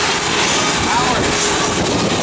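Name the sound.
SB2C Helldiver aircraft, Wright R2600 radial engine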